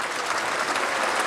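Short burst of sustained, dense applause from many hands in the Polish Sejm chamber, loud and even with no pauses.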